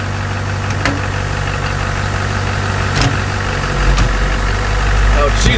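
A Duramax diesel swapped into a Chevrolet K20 pickup rumbles steadily, then the engine note rises as the truck pulls away, close and loud, with someone briefly speaking over it.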